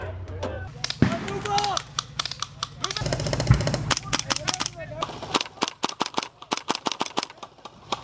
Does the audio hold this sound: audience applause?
no